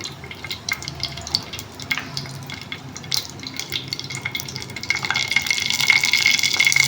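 Mustard seeds and fenugreek frying in hot oil for a tamarind pulusu, a soft crackling sizzle with stirring that grows louder and busier toward the end, no voices.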